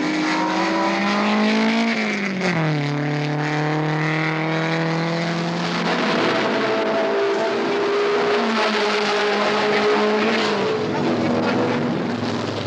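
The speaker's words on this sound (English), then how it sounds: "20 minutes from the end, Siffert roared into the pits with more trouble for Porsche" Race cars at the 1970 12 Hours of Sebring endurance race, engines roaring loudly and continuously as they pass, pitch sweeping down and rising again with shifting gears, close and dominant throughout.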